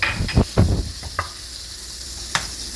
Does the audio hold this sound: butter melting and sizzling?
yes